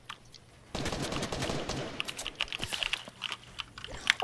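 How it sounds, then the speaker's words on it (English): Video game gunfire from sniper and assault rifles: a burst of rapid automatic shots starts abruptly, then scattered cracks and pops continue at moderate distance, alone without talk. "Oh, we're getting sniped from behind."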